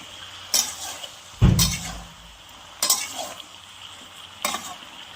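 Malabar spinach seeds frying with dried ribbonfish in a pan, a steady soft sizzle under four sharp utensil scrapes and clinks, one heavier knock near the middle, close and moderately loud with no talking.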